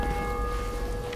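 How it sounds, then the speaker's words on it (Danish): Church bells ring in the survival video game DayZ as a sustained tonal chime that hangs steadily over a rough, noisy background for about a second. "Ved du om kirkeklokkerne, om de bare ringer automatisk"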